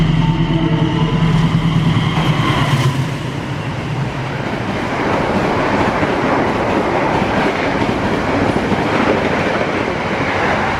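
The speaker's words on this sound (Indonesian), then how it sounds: "ditarik lokomotif 203 livery 2 garis biru" A train pulled by locomotive 203 passes close by, horn and engine first, then a loud steady rush and clickety-clack of wagons rolling past.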